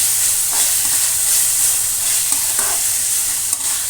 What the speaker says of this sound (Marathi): आता आपण याच्यामध्ये टोमॅटो घालायचे आहेत। टोमॅटो घातले की आपण यांना परतून घ्यायचं आहे।